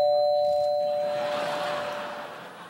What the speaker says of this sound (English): Let's see if we can hear the doorbell.